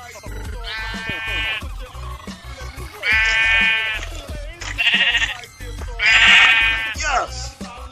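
Sheep bleating in Minecraft Pocket Edition, several loud close bleats in separate bursts, with a voice talking between them.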